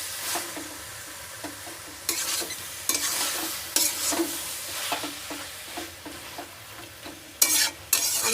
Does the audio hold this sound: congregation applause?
no